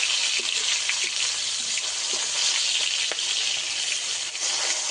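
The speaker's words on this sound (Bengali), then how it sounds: "একদম লাল লাল করে মাছগুলোকে ভেজে নেবো।" Whole rupchanda fish, freshly caught from a pond, fry in hot oil with a loud, continuous hissing sizzle that stays steady and close throughout, with no talk.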